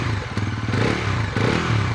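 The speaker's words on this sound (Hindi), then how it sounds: "मैं खड़ा हुआ हूँ पीछे, कि जैसे मैं दूर हूँ बाइक से और मैं इसका थ्रॉटल देता हूँ" A Bajaj Pulsar NS400Z motorcycle with an under-belly exhaust revs as the throttle is blipped, heard from behind the bike, its loud, throbbing engine note rising in two distinct pulses.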